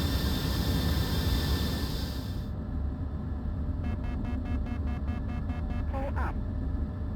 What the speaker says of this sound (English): Alright, aircraft started up.